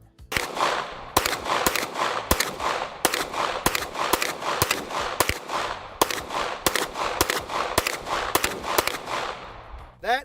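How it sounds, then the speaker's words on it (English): Pistol gunshots in a first-person shooter game with bodycam-style footage, a loud near series of sharp single shots fired in quick, fairly regular succession, about a dozen in ten seconds, alone without talk. "That is a very smooth, flat shooting pistol."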